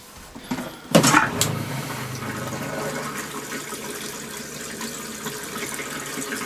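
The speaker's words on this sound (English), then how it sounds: "Now we'll hit the toilet." An RV toilet being flushed with pink antifreeze during winterizing: a sudden gush of water after a thud, then a steady, moderately loud rushing and trickling flow that slowly settles.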